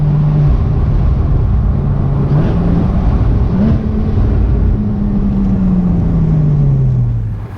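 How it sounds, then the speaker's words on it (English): A custom Porsche 981 with a titanium exhaust idles and revs, its low droning note holding close and loud, then rising and sliding back down in pitch, with no voices. "that's the sole titanium exhaust"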